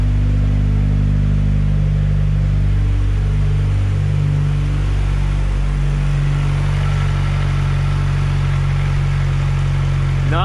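A fully built Mazdaspeed 6 with a PTE 6062 turbo fires up for the first time and runs steadily, a loud close idle with a low droning rumble that holds through to the end.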